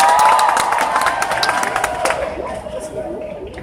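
Audience at a book presentation cheering and clapping, a loud crowd roar with whoops and scattered applause that gradually fades.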